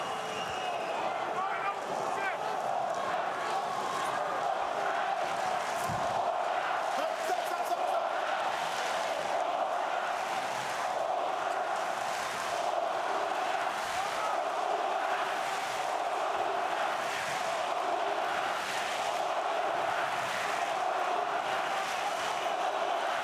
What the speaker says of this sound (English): German crowd chanting as two Eastern European-born fighters square off in the ring.